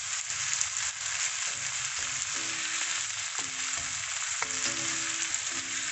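Onions fry in a wok with a constant bright sizzle, while short tonal clinks and scrapes of stirring recur throughout; close, steady, without speech.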